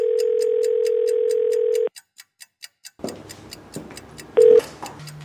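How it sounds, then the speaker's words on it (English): Office desk telephone tones: a steady dial tone held loud and close, then a quick run of clicking dial pulses, followed by a burst of touch-tone beeps and line noise. "The first conundrum is the office phones from hell."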